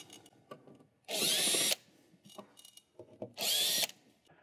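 Power drill backing out screws from the cover of a 201 scale indicator: two separate loud, close bursts of whirring, each about half a second long, with quiet handling clicks and rattles between them.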